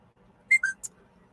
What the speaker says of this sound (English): that's my phone whistling in case anybody's wondering